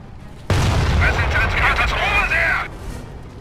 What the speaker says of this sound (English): They're using heavy machine guns.